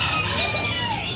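A chicken clucks and squawks close by amid steady background noise at a bird market in Lombok, its calls rising over a busy, noisy setting.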